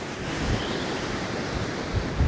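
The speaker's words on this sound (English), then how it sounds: "But this wind is definitely not letting up at all. It's getting a lot stronger." Strong wind roars with crashing surf on the Dorset coast during Storm Darragh, a steady, loud, full wash of noise with the wind buffeting the microphone.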